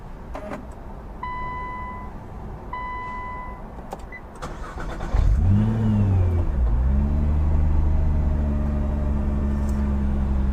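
A 2016 Nissan GT-R Premium is started by its start-stop button. A few electronic chimes and clicks come first, then the starter whirs and the engine catches with a loud rev before settling into a steady, rumbling idle.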